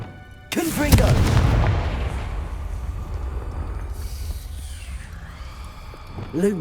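A Confringo spell in Hogwarts Legacy bursts with one heavy blast, followed by a long rumbling decay and a fresh burst right at the end.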